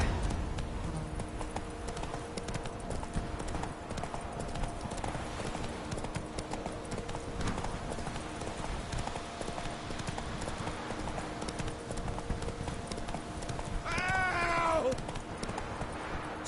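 In the video game Witcher 3, a horse's hooves clip-clop steadily as it is ridden, a brisk, even trot over a constant ambient bed, with a brief whinny-like cry near the end.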